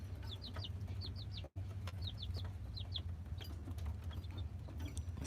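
Baby chicks in a brooder under a heat lamp and red light cheep in quick high chirps, often in bursts of two or three, steady and close over a low hum, with one brief dropout.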